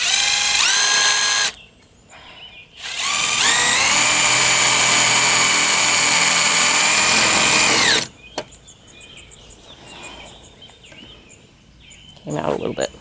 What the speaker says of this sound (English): Then I'm going to use my countersink bit and drill some holes here and